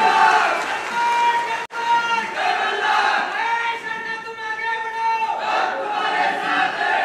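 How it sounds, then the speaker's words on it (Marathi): A large political rally crowd at a Lok Sabha campaign event in Baramati cheers and applauds, a dense roar of voices and clapping that swells and dips with shouted chants above it. "पुन्हा एकदा अण्णांसाठी जोरदार टाळ्या वाजवा"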